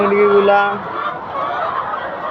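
Chickens cluck and call close by in a backyard coop, a few short honking notes at first and then busier fowl chatter, mixed with a person talking.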